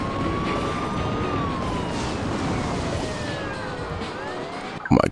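A wailing siren in the racing video game Beach Buggy Racing 2 sweeps up and down over a loud, constant engine roar, ending with a sharp burst of noise.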